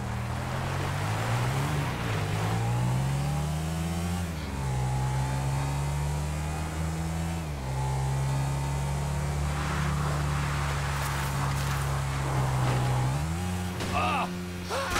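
Motorcycle ride in the video game GTA V, a steady low engine drone whose pitch rises and falls with gear changes, with faint rushing wind over the top and someone talking now and then.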